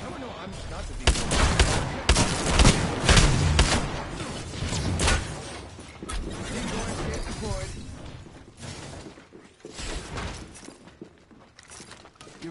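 Gunfire bursts in the Apex Legends video game, loud and dense rapid volleys and blasts in the first half, thinning later, mixed with voices talking over the fighting.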